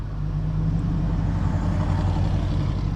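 A Rover SD1 V8 engine idles in neutral with a deep, steady low rumble and a constant throb, close and loud, with no voices over it.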